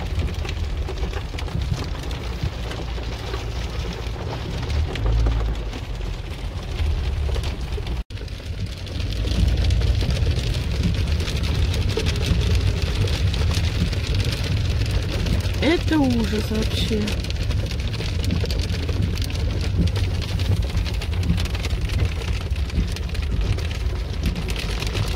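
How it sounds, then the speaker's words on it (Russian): Hail mixed with snow pelting a parked car during a sudden storm, a dense continuous patter on the metal body and glass that swells louder partway through, with a voice talking over it. "Мне кажется, град со снегом, потому что бьет по машине вообще."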